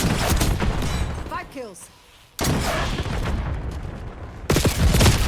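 Rapid-fire GPR 91 rifle bursts in the shooter video game Black Ops 6, dense loud volleys broken by a brief lull, mixed with explosions and game announcer speech.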